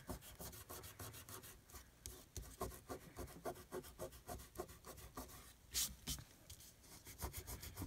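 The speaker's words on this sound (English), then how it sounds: "Now we've got some glue going on over here, and we can just take and rub it off." Dried glue being rubbed off paper by hand, even through a lace doily, a faint, close, rhythmic scratchy rubbing with repeated short strokes, no talking.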